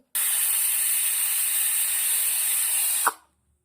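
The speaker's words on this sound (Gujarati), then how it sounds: "ત્રણ સીટી પડી ગઈ છે ગેસ બંધ કરી દીધો છે થોડું ઠંડુ પડવા દેશું હવા નીકળી દીધી છે" A pressure cooker releases a loud, steady hiss of steam for about three seconds after the gas is turned off, then cuts off abruptly with a small click.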